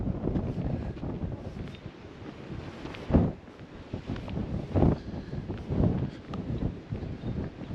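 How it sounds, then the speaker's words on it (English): Strong wind buffets and roars continuously outdoors on the Cornish coast around Polperro and Polruan, with louder gusts every few seconds and a rushing, surf-like wash underneath. "On a very windy day."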